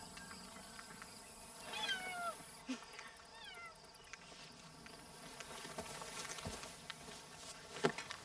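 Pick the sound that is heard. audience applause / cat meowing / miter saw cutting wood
cat meowing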